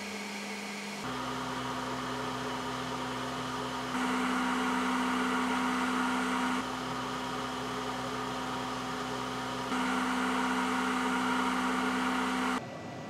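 A steady mechanical hum and whir from a running 3D printer, with motor tones that shift in level every few seconds, continuous and fairly close.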